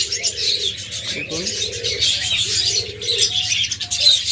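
A pair of cockatiels calls in repeated short chirps and whistles over a constant low hum, with soft cooing from other caged birds nearby and a brief spoken word.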